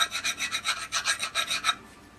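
Steady rasping strokes of a file work over the mushroomed edge around a freshly drilled gas port on a rifle barrel, about a dozen quick back-and-forth passes close up, then it stops.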